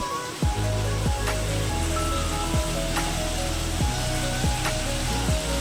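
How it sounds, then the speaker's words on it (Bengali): Small fish sizzle and crackle loudly in hot oil in a pan, a steady dense frying hiss with intermittent sharper spatters, close and continuous throughout. "এরপর আমি সব মাছগুলো দিয়ে দেবো"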